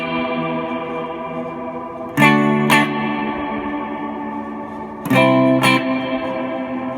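Guitar chords played through a Meris Mercury7 reverb pedal on its Cathedra setting, two pairs of strummed hits each blooming into long, shimmering, sustained trails that wash over the gaps, with no talking.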